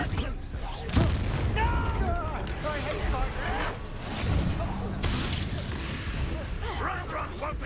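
Confringo explosion spells go off in the video game Hogwarts Legacy, producing heavy booms and shattering bursts layered with continuous battle noise and game voices talking throughout.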